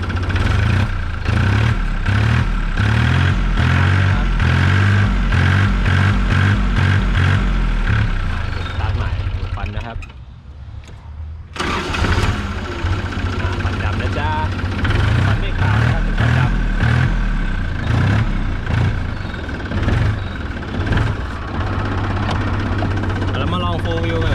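An ISEKI TA270 27 hp tractor engine runs with a loud, steady diesel chug, dipping briefly midway before picking back up, heard close with someone talking over it.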